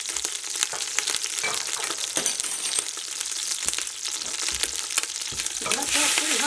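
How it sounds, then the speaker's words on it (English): Sausage sizzles loudly in a hot mix of butter and coconut oil, a dense steady crackle with scattered pops and a few utensil clinks, swelling louder near the end. "So that's my sausage going in."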